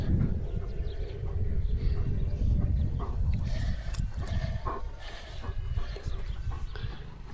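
Sheep and horses passing on a road outdoors, with scattered bleats and clucks over a heavy low rumble of movement and wind, no speech.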